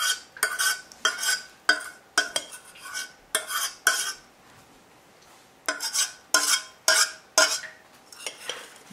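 A spoon stirs melted chocolate in a bowl for brownies, making a steady series of clinking, scraping strokes with a short pause midway.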